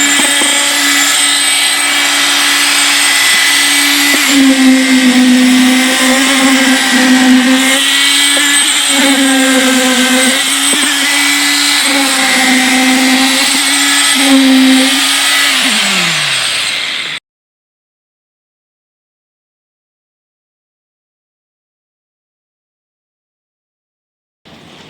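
A concrete mixer churns a batch of concrete for casting a plinth beam, its engine drone loud and steady with a rhythmic rolling hum for about seventeen seconds before abruptly winding down and stopping, followed by silence.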